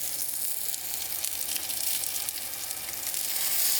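Steaks sizzle on a PowerXL Smokeless Indoor grill, a steady bright hiss and crackle that holds close and loud throughout, with no voices over it.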